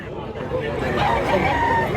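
A rooster crows at a busy chicken market in Mantalungon, Cebu, its call rising over a steady babble of nearby voices and crowd noise, with people talking throughout.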